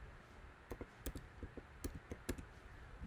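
Soft keystrokes on a computer keyboard while a hex color code is entered, a handful of quiet, irregular clicks in a hushed room.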